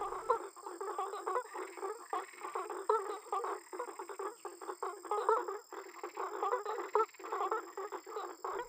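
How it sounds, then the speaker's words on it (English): Male frog of the Atlantic Forest croaking from its nest to attract females, a dense, continuous chorus of rapid nasal calls in close succession, loud and steady with no talking. "From these nests, the male starts to croak, attracting females of the same species."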